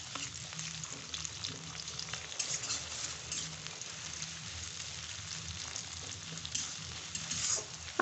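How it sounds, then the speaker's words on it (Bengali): Chopped onions and green chillies frying in hot oil in a pan for an arum dish, a soft steady sizzle throughout with faint stirring and a sharper clatter at the very end. "পেঁয়াজটা আমি লাল লাল করে ভেজে নেব।"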